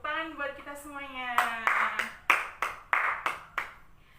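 Classroom students clap together in a burst of about eight sharp, evenly spaced claps, right after a teacher's voice speaks, close and clear in a small room.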